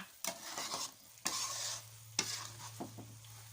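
A metal spatula stirs and scrapes a thick, sticky sweet coconut mixture in a pan over low heat, with several sharp scraping strokes over a steady low hum and soft sizzle, no talking.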